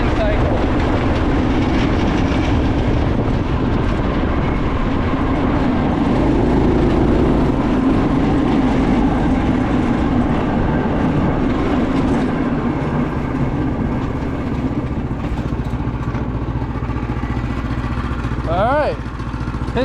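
A Harbor Freight engine on a rebuilt go-kart runs with a steady droning rumble that swells slightly midway, while people talk over it.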